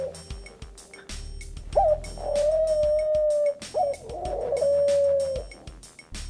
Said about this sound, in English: All right, doves.